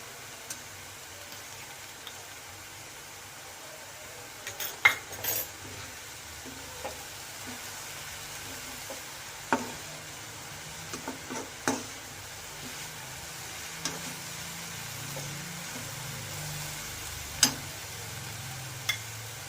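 Veg momo filling stirred in a frying pan, a soft steady sizzle with scattered sharp clicks and scrapes of the spoon against the pan, close and fairly quiet, no talk.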